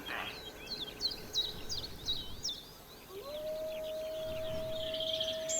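Wolves in a zoo-building video game let out a series of rising howls and yips, several overlapping calls in the first few seconds followed by a long, steady sustained tone.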